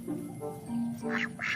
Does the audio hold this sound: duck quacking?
yes